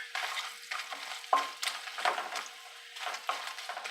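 Broken pieces of papad fry in a simmering kuzhambu, giving rising and falling bursts of sizzle with scraping stirs of a spoon in the pan, close and clear, with no talking.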